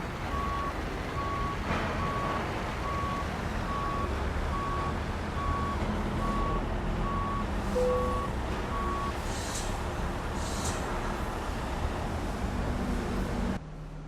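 An American Truck Simulator truck backs up toward a trailer, its reversing alarm beeping in an even, repeating rhythm for several seconds over a low engine rumble, then the sound cuts off abruptly.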